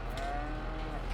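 A cow in the farm video game Court Farm Country Park gives a low, sustained, droning moo, loud and close.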